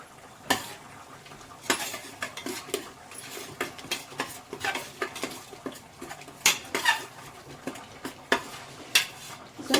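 A spoon scrapes and clanks repeatedly against a pot as chicken biryani gravy with salt is stirred, brisk irregular strokes over a soft sizzle, close and fairly loud.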